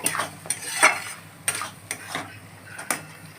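Egg and brinjal being stirred in a pan with a utensil, giving a string of close scraping strokes and light clinks over a faint sizzle, with no talking.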